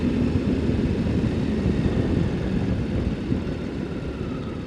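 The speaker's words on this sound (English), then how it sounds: "I wanted to listen to the engine" Husqvarna Norden 901 motorcycle engine while riding at night in a cold rainstorm, a steady low drone mixed with broad wind and road noise, continuous and fairly loud with no speech.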